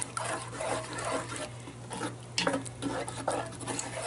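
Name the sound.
stirring turkey tetrazzini in a Dutch oven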